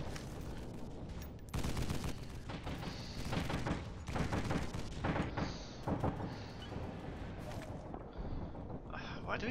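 Rapid SMG gunfire in a shooter video game, bursts of fast crackling shots and a few heavier booms, with a player talking over the action throughout.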